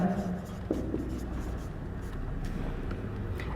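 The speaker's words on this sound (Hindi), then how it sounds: "यहाँ पे लिखता हूँ मैं" Chalk or marker writing by hand on a board during a chemistry lesson on vapour pressure, light scratchy strokes running under a teacher speaking in Hindi.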